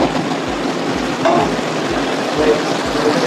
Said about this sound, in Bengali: মশলার সঙ্গে দুটো নিয়ে কষিয়ে নেব